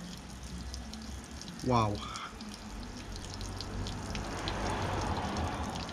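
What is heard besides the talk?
water gushing and dripping out of a van's body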